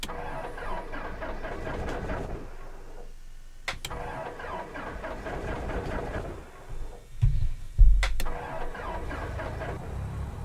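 Light aircraft engine cranking and firing up in the flight simulator X-Plane 11, a steady mechanical whir with sharp clicks, a brief quiet gap, then a louder cough and rumble as the engine catches near the end.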